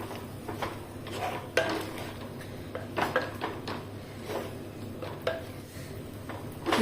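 A spoon stirs ground jackfruit seed paste into a hot tempering in a pan for coconut-free rasam or sambar, giving irregular scrapes and light metallic knocks over a low steady background hum.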